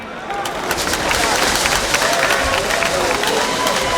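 Dense, sustained applause fills the hall as an audience claps for dignitaries at the afternoon launch of the Alliance for Revolutionary Change political movement, the crowd noise swelling after the first second and holding steady, close and loud.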